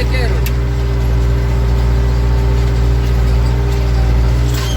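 A steady engine idles throughout with a constant low rumble and hum, loud and close, with faint background noise.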